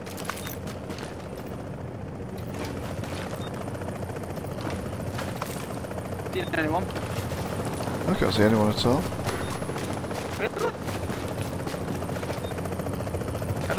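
A helicopter in The Division holds a constant rotor chop and rumble throughout, steady and fairly loud, while people talk over it and brief gunfire bursts around the middle.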